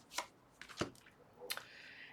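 Tarot cards being shuffled close by, a few quiet, brief riffling and slapping bursts with pauses between them.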